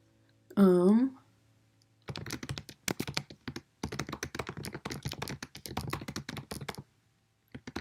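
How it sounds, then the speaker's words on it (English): A brief vocal sound comes first, then steady bursts of close computer keyboard typing, quick clattering keystrokes in uneven runs with short pauses. "Sorry if you have to hear me typing."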